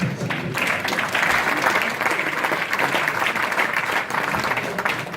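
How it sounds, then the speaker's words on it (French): An audience applauds at an award ceremony for a business excellence prize, a dense, sustained wash of clapping from a large crowd that stays loud and even throughout. "On peut applaudir"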